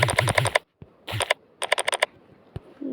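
Mechanical keyboard typing from an Android keyboard app, heard as several quick bursts of crisp clicking keystrokes, close and fairly loud, separated by short pauses, with a lone tap near the end.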